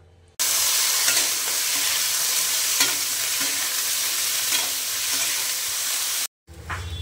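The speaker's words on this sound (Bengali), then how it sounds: "এখানে পরোটা ভাজা চলছে বন্ধুরা।" Parathas fry in a little oil in a home kitchen pan, a loud continuous sizzle with occasional scraping stirs, close and with no talking, before a short silence and a change of scene.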